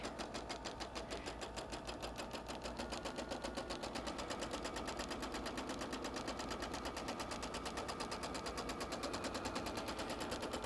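A sewing machine stitches a photo-transfer wall hanging with a fast, even mechanical chatter that runs continuously and close up, moderately loud, with no voices.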